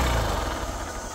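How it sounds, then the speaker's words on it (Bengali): A second-hand Hero Hunk 150cc motorcycle with double disc brakes idles close by, a smooth low steady engine rumble with no talking. "দেখেন বাইকটা কিন্তু স্লো মোশনে রয়েছে, মনে হচ্ছে যে বাইকটা বন্ধ হয়ে গেছে"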